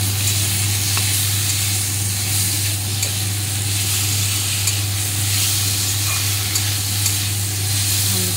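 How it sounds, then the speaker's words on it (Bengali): Ginger, garlic, onion and tomato are stir-fried with potatoes and salt, producing a steady, loud sizzling hiss over a constant low hum, with faint occasional utensil clicks. "আদা রসুন পেঁয়াজ টমেটোকে ভালো করে নাড়িয়ে চাড়িয়ে নেব।"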